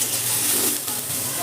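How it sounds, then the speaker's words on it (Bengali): Chopped tomato and onion frying in oil in a kadai, a steady, loud sizzle that holds without a break. "এবার টমেটোটাকেও কিন্তু আমি পেঁয়াজের সঙ্গে ভালো করে ভেজে নেব"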